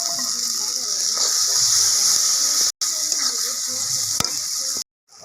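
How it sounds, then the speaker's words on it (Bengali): Sizzling frying in a cooking pan with tomato, salt and soybean-egg mixture, as a little water is poured in, giving a steady hiss and bubbling with brief breaks and clinks, close and loud. "অল্প জল দিয়ে দিচ্ছি"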